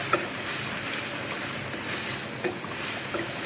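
Jackfruit seeds sizzling in a pan of spiced masala with chopped garlic, a steady broadband frying hiss that stays fairly even throughout with a few small pops, close and moderately loud with no talk.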